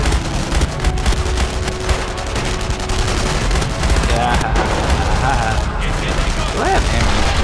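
Mounted gun fire in the war video game Enemy Front, rapid bursts and dense gunfire rattling loudly and continuously, mixed with game battle noise and someone talking over it.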